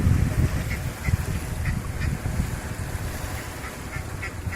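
Startled duck by the water, repeated quacks close by over a low rumble of wind and water, with no talking.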